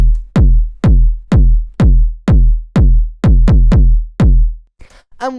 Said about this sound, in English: So I'll start with the kick. Here is the kick by itself.